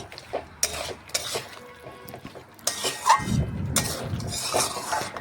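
Chicken and fried potatoes stirred in a pan on a gas stove, with scattered metallic scrapes and clanks of a utensil against the pan and a sizzling patch, close by and uneven.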